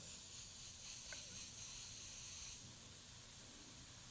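Paint sprayed onto a fantasy art piece in steady hissing bursts, close and continuous for about two and a half seconds, then easing to a softer hiss.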